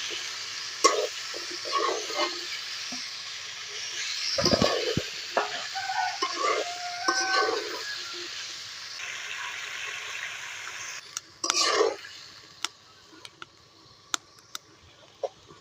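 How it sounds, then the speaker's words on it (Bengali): Potatoes and vegetable stems for a Bengali koi fish curry sauté in a pan, with a steady soft sizzle, irregular scraping stirs and occasional sharp ticks of a spatula against the pan, close by and with no talk. "এখন ডাটা আলুগুলো দিয়ে দিলাম ভালো করে একটু কষিয়ে নেবেন"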